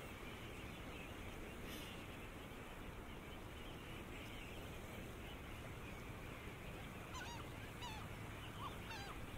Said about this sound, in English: That's one of the bigger seagulls there.